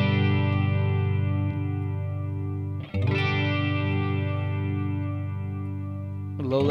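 Guitar through a Boss Katana MkII amp with a long pre-delay doubling effect: sustained chords ring out thick and layered, with a fresh strum at about three seconds and another near the end, no talking.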